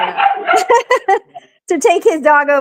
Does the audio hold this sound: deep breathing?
no